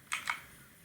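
Two quick keyboard keystrokes while typing HTML code on a computer, close and soft, followed by quiet room tone.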